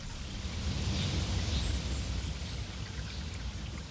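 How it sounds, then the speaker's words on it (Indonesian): A river flows steadily past a village of simple stilt houses along its bank, a continuous near rush of splashing water with no voices. "suara-suara aneh itu mulai berganti dengan suara sungai"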